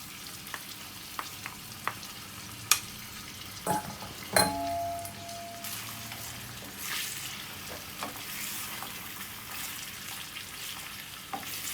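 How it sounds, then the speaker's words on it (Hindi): Beef pieces with garlic-ginger paste fry in a pan, a steady soft sizzle running throughout with a few sharp clinks of a utensil against the pan and occasional stirring scrapes, close up and with no talking. "इसे हल्का सा फ्राई करेंगे हम लोग। साथ ही इसके अंदर लहसुन अदरक का पेस्ट भी शामिल कर देती हूँ।"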